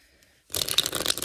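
After a near-silent start, a small tarot deck is riffled close up, a sudden burst of loud papery flapping and fluttering that runs to the end.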